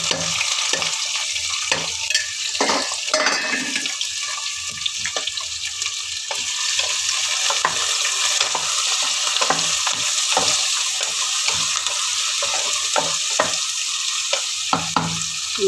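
Sliced onions and two green chillies fry in oil in a home kitchen pan, a continuous close sizzle broken by frequent scraping stirs and a few splashy clatters, with no talking.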